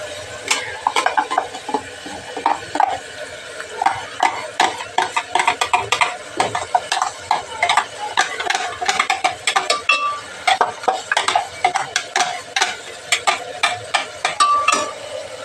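A spoon repeatedly scrapes and clatters against a pan while ground masala fries, making close, irregular metallic clinks and scrapes that keep going throughout with no voice.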